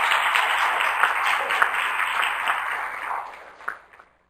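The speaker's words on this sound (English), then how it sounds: "let's give our panelists a round of applause" Audience applause fills a public meeting room after a panel discussion, steady dense clapping from a crowd that carries for about four seconds and then tapers off to silence.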